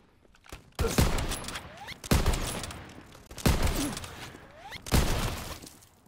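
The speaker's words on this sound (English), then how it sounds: "It's three shots." Four loud, evenly spaced rifle shots from a WW2 sniping video game fired with iron sights, each a sharp crack with a ringing tail, standing alone without talk.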